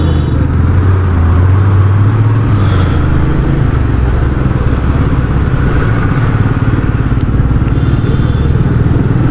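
Royal Enfield Meteor 350 single-cylinder exhaust thumping steadily and loud up close while riding through crowded city traffic on JM Road in Pune, a continuous pulsing engine note with surrounding road noise.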